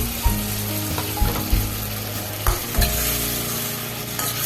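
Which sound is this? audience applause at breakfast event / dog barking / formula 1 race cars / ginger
ginger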